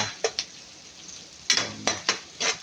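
Aromatics being sautéed in a pan for Filipino monggo: a soft steady sizzle under sharp, irregular clinks and scrapes of a utensil stirring against the pan, fairly close and moderately quiet, with no talk.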